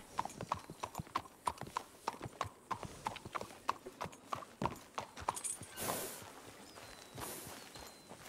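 Horse hooves clip-clop in a roleplay video game set in a Peaky Blinders-style world, a steady walking rhythm of sharp close hits that gives way to a softer rustle near the end, with no talking.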